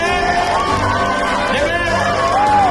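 A crowd cheers and whoops in a hall at an Onam awards ceremony, the Prerana Awards, after an award-winning song is honoured. Continuous, loud, lively shouting and applause fill the whole moment.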